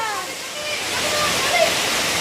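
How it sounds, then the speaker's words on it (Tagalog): Water gushes and splashes in a steady rushing stream spilling from a hose while people talk over it, during rain. "Tumatapon yung tubig. Kunin mo na yung hose."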